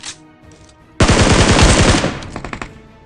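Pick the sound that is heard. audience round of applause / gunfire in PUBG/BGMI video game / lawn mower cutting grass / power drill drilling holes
gunfire in PUBG/BGMI video game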